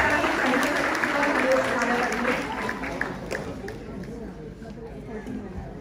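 Audience applause at a community cycling-ride event hall, a dense wash of clapping that is loud at first and then thins and fades, with crowd murmur and voices mixed in.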